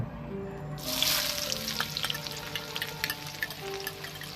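Sliced shallots hit hot oil in a pan with a sudden loud sizzle that settles into a steady, bubbling fry with small pops, close up.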